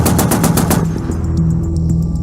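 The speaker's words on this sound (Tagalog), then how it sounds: "narinig namin ang tunog ng sunod-sunod na pagpapaputok ng Armalite" A rapid burst of Armalite rifle fire, loud and close, rattles off in quick succession for under a second before fading into a low droning hum.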